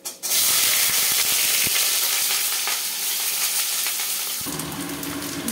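Malabar spinach stems dropped into hot oil with panch phoron and dried red chillies: a sudden loud hiss that settles into a dense, continuous close sizzle, no talking.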